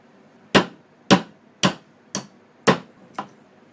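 Hammer driving a steel arbor out of a drilled pulley on a homemade Gingery lathe: six sharp metallic blows spaced about half a second apart, close and loud, with silence in between.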